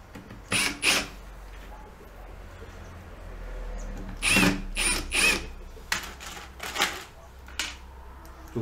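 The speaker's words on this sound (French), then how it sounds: "Donc là, on met toujours donc les 4 vis." Wood screws driven into pallet wood for an insect hotel, heard as several short whirring bursts from a screwdriver, spaced apart with quiet gaps and a faint background hum.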